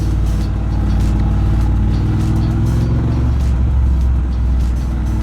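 Triumph Bobber motorcycle engine on stock exhaust pipes, a steady low rumbling drone that holds fairly loud and even throughout with slight swells, no talking.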